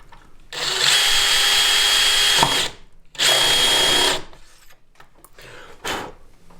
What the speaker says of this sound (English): And your first 2 holes are drilled.